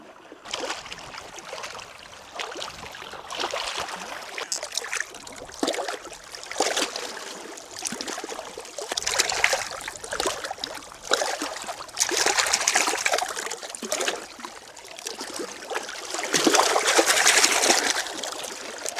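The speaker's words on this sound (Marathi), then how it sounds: "आता खेकडे धुवून घेऊयात" Freshly caught black crabs are rinsed in water, with steady splashing, trickling and sloshing that rises and falls close by for the whole stretch, no voices over it.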